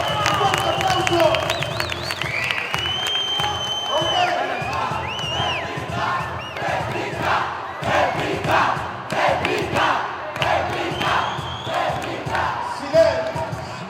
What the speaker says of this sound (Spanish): Un fuerte aplauso para esta ronda